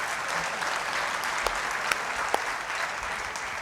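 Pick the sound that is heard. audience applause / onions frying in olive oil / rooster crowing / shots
audience applause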